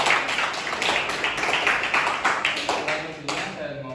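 Classroom applause for a student group, a steady patter of many hands clapping, close and fairly loud, with a voice speaking over it.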